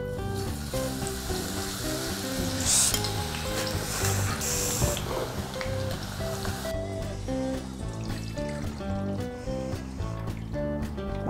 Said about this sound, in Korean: 마늘 페이스트 먼저 튀겨줬습니다